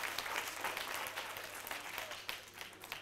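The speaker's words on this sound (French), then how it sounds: "Applaudissez très très fort pour eux." A studio audience at the Les Imbattables school quiz final, Gnalga 3 against Recasement 1, gives hearty applause for a competing school team. Thick, continuous clapping runs throughout with small swells.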